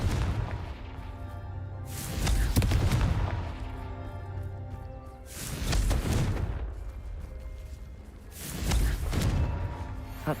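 Confringo spell blasts in the Hogwarts Legacy video game: three heavy booming bursts, spaced a few seconds apart, each swelling and fading over a steady game backdrop.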